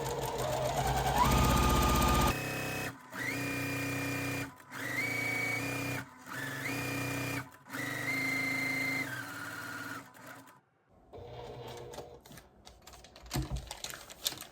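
Sewing machine stitching pinwheel star quilt pieces at a short stitch length of about 1.5, running in several steady bursts of rapid whirring with brief pauses between, close and loud, then falling quiet as fabric is handled.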